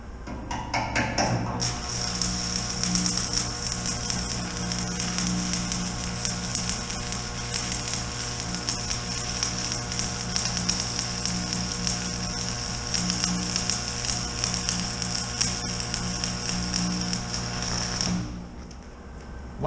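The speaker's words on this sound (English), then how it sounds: "We're going to put 3-pass fillet weld on each side" Arc welding a multi-pass fillet weld on bucket hooks gives a steady crackling buzz with a constant high hiss, running evenly for about sixteen seconds before stopping.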